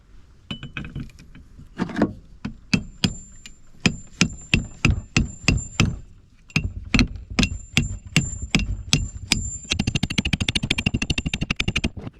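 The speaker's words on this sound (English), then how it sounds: "I'm out of breath from hammering that dang sinker in." Repeated metal hammer strikes driving a lead sinker into a cannon, steady sharp blows in a rhythmic series with a brief pause, ending in a rapid flurry of quicker hits.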